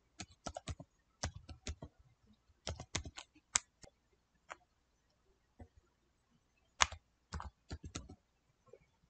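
Typing on a computer keyboard, heard as short bursts of crisp key clicks with quiet gaps between them, close and fairly soft.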